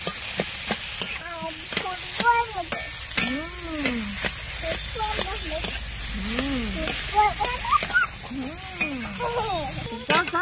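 Potatoes fry with turmeric in a hot pan, a steady sizzle broken by sharp scraping stirs and clinks, while someone talks nearby in a lilting voice over the cooking.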